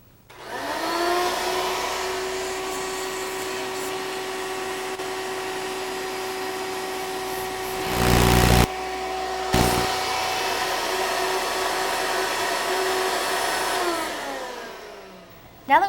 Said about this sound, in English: It's a lot better to take and use a vacuum cleaner because you're actually going to suck the dirt out.